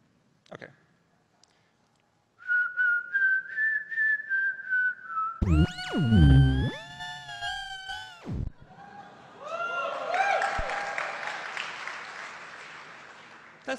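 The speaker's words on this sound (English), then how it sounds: "I will try to whistle it and you'll try to repeat after me." Someone whistles a melody from Beethoven's Ninth Symphony, a sustained rising phrase followed by louder held tones, with noisy, clattery sounds toward the end.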